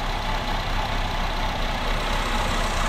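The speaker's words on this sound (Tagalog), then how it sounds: "Ayun yung serpentine belt niya, umiikot na." A car engine idles steadily in an open engine bay while the serpentine belt spins, giving a continuous close, even hum with no breaks or talk.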